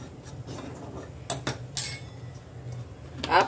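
A metal spoon clinks and scrapes against a pot while a spoonful of sugar goes into rice kheer, giving a few sharp taps and one brighter ring near the end over a low kitchen background.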